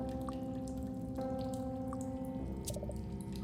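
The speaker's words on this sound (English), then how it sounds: "Far in the distance, you hear a sound like the ocean." Distant, ocean-like rushing water in the PC game Goosebumps: The Game, a steady low wash beneath sustained eerie tones, with a few faint drip-like blips scattered through.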